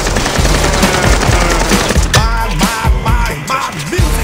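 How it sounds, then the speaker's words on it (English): Loud, rapid bursts of gunfire come close together in a game firefight, with a mechanical ratcheting clatter and sharp cracks filling the whole moment, and no talking. "Random shooting, help me."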